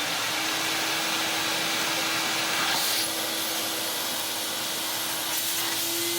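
A 1990s Vax Rapide 5150 vacuum cleaner set up for dry use runs on its lowest power, a loud continuous motor whine with a steady airy rush and a slight change in pitch partway through.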